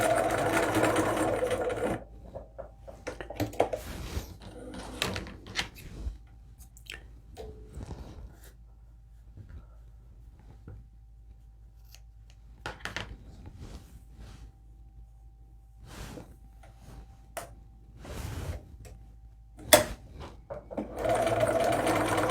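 Sewing machine stitching a Laura Ashley bag from a McCalls pattern, running in short bursts of whirring with brief pauses and handling noises between, close and fairly loud.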